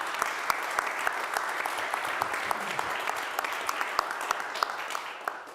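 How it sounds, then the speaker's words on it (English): An audience at a mayors' roundtable of a Ljubljana city forum applauds to welcome the mayor of Dubrovnik, a steady mid-sized round of clapping with distinct individual claps standing out, fading slightly at the end. "So please give him a big round of applause on this one."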